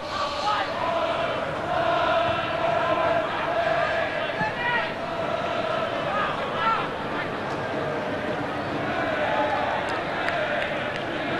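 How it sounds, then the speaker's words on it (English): Perth Glory supporters singing from time to time in the stands at an Australia U23 versus Brazil U23 football match, a broad steady crowd roar with faint chant-like tones throughout, plus speech over the top. "Singing happening in the crowd tonight from time to time."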